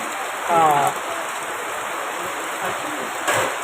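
Steady rain hiss fills the background, constant and moderately loud, with brief faint voices in the distance.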